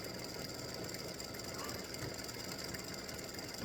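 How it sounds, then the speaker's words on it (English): An embroidery machine stitches freestanding lace spider earrings, its needle keeping up a rapid, steady mechanical chatter and hum that holds at an even level the whole time, close and continuous. "I am stitching them and want y'all to see how they stitch."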